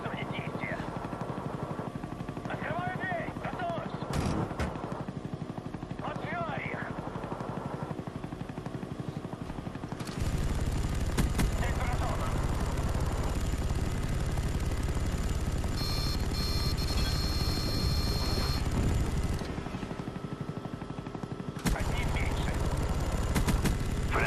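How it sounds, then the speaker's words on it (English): Call of Duty Black Ops chopper gunner: a helicopter drones continuously while bursts of rapid machine-gun fire crackle loudly in the second half, with quieter game voices and effects earlier on. "While the chopper gun is going off"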